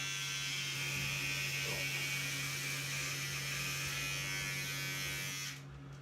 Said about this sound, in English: take your clippers and just start shaving this part of it. So you turn them on, go like that.